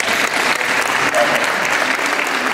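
Loud, dense applause fills the room from an audience at a cement package handover event, continuous and even throughout with a murmur of voices beneath.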